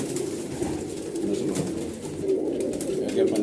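A Punjabi pigeon coos in low, rolling, repeated calls close by, with other pigeons faintly murmuring around it.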